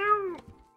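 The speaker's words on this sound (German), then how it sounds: "Alter, was ist denn das für eine große Katze?" A cat in the farming video game Staxel gives a single short, close meow that slides downward in pitch, followed by faint soft game noises.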